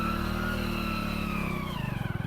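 A vehicle engine drones steadily as it moves along a muddy village road, loud and close, the tone dropping into a rough pulsing idle near the end.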